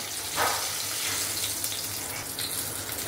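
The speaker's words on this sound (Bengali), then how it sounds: "এবার ফোড়নটা ভালো করে ভেজে নেব।" Whole spices, including dried red chili, bay leaf, black and green cardamom and cinnamon, fry in hot oil for a mutton curry, giving a steady, loud hiss and sizzle with a few brief crackling spurts.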